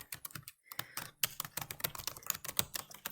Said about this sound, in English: on here she can start typing a list of inquiry questions